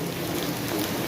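Steady rain falls and patters on surfaces outdoors in Yalta, Crimea, a dense continuous hiss of raindrops, fairly close and even throughout with no voices.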